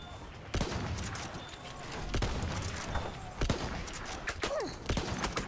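Ross MK3 infantry rifle in a video game firing quick no-scope shots: a series of sharp, irregularly spaced cracks amid continuous battle noise, fairly loud and close.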